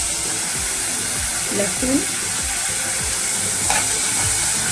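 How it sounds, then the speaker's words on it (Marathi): Garlic sizzles in hot oil for a vegetable tempering, a steady broadband frying hiss throughout with a couple of brief clinks and stirring sounds, close up, with a faint voice briefly audible underneath. "लसूण टाकला फोडणीमध्ये."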